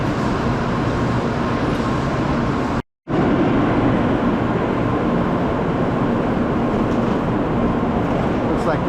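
A Shinkansen bullet train waits at a station platform on the Tokyo to Kyoto line, with a loud continuous rumble and hiss of station and train noise, briefly cut by a short gap of silence before resuming.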